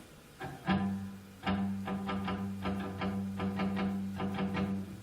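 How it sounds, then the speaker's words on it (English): Short, palm-muted electric guitar plucks in a quick, rhythmic pattern over a sustained low tone, played alone at moderate volume. "really big fan of picked guitar sound, muted picked guitar sound, so something like this"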